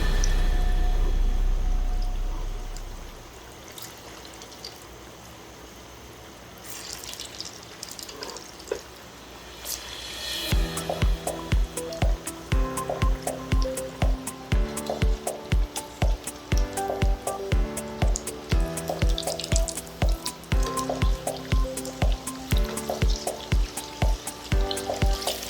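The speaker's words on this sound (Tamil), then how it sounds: "இந்த கலவையை சின்ன சின்ன உருண்டையை எடுத்து கையில் தட்டி வடை மாதிரி ஆக்கி அந்த எண்ணெயில் டீப் ஃப்ரை பண்ணி எடுங்க" Chicken vadai patties deep frying in hot oil, a steady loud crackling sizzle with dense rapid popping bursts, preceded by a quieter stretch of softer bubbling and faint clinks, no voices.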